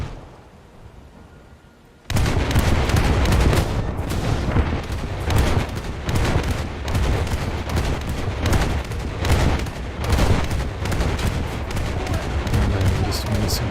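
Naval guns fire in a warship video game, a loud, dense run of booming shots and blasts that starts abruptly after a quiet moment and keeps pounding steadily throughout.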